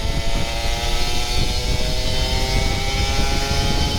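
A Kawasaki Ninja RR 150 two-stroke motorcycle riding through Jakarta in third gear, its engine holding a loud, steady drone with strong wind buffeting, continuous and close throughout.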